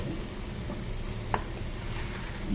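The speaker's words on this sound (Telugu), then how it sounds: "అడుగట్టకుండా తిప్పుకుంటూ ఉండాలి బాగా బ్రౌనిష్ కలర్ వచ్చేంత వరకు వేపుకుంటూ ఉండాలి" Masala for a prawn and cashew curry sizzling and frying in a pan while being stirred, a continuous soft crackle with a faint clink of the spoon partway through.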